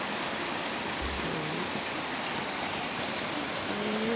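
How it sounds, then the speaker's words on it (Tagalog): Light rain falls steadily on garden plants, including tomato plants, in Cavite, producing a dense, even patter of close drops with no pauses. "Ayan, rain."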